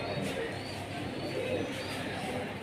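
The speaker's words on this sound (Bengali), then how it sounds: "কবুতরের স্ট্যান্ডিং দেখেন কবুতরের গেট আপ দেখেন মার্শাল্লাহ খুব সুন্দর কবুতর" Pigeons coo softly at a loft where birds are kept for show, a muffled, low murmur that runs steadily through a constant hiss of background noise.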